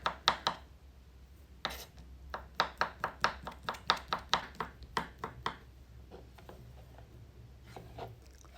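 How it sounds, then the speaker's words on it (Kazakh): A knife cuts boiled sausage into thin strips on a cutting board for an iftar salad: a quick run of sharp, evenly spaced chops, then quieter, scattered taps near the end. "Енді вареный колбасаны да солай кішкентай соломка етіп тураймыз."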